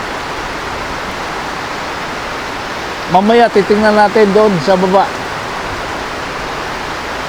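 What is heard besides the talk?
heavy rain falling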